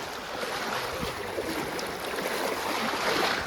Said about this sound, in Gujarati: બાજુમાંથી નહેરમાંથી એટલું પાણી આવે છે